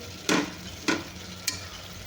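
Mutton trotter curry ingredients fry in oil while being stirred, giving three short bursts of sizzling and scraping spaced roughly half a second apart over a low background hiss.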